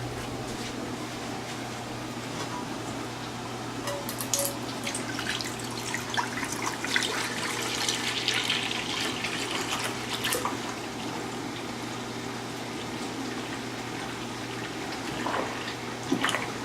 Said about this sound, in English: So go ahead and pour the milk in there.